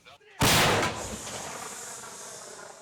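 A single loud artillery gun firing, a boom with a sharp onset, followed by a long rumbling decay and echo, faint background before the blast.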